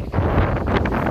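Strong outdoor wind buffeting a handheld phone microphone, a loud low rumbling roar that fills the moment with gusty surges and no talking.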